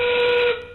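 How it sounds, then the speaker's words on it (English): A single loud, sustained whistle blast marks the end of a robotics competition match, then cuts off and fades quickly. "As we hear the whistle"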